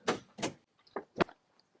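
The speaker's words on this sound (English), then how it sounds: "I'll open the driver's door. I'll pull on the hood release." Driver's door of a Toyota Land Cruiser or Lexus LX470 being opened and the hood release pulled, a few sharp mechanical clunks and clicks close by, then a quiet pause.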